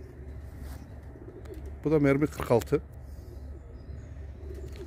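Tumbler pigeons cooing nearby, a short burst of throaty rolling coos in the middle over a low steady background hum, with a voice speaking briefly.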